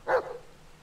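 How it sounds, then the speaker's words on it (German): A single sharp dog bark close by, a short loud burst fading quickly, heard in the Blair Witch video game. "Der Hund."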